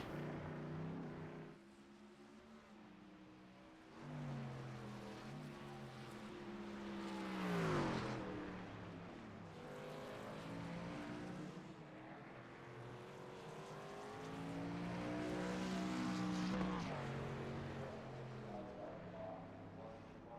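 Racing truck engine in a Sweet Tea Gang Trucks Series race at the Charlotte Roval, a steady droning roar with pitch sweeping up and down through gear changes, heard at a distance beneath continuous commentary.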